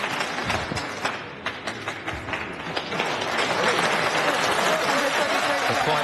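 Snooker crowd applauding Jack Lisowski's century-break clearance in the International Championship 2018 semi-final against Neil Robertson: sustained dense clapping from a large arena audience, swelling louder toward the end.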